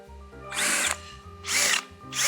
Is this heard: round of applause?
no